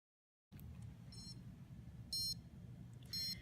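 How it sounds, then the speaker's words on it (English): Timer alarm on a sunscreen reminder device beeping in short, high, tonal bursts, three separate beep groups over a steady low hum, the last two louder and longer. "After 60 seconds, an alarm will sound, acknowledging the fact that it's time to reapply sunscreen."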